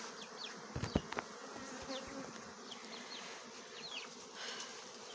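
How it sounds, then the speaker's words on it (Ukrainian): Honey bees fly around a beehive entrance in autumn, a steady close buzzing hum with individual bees zipping past, plus a few soft knocks near the start and no speech. "Пчолка літає. О, льот хороший."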